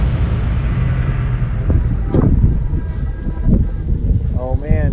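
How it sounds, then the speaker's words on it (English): A train leaving Moosonee, Northern Ontario, rumbles and clanks steadily, with metallic screeches and a horn-like tone near the end; a voice speaks briefly over the noise. "That is the sound of the train leaving."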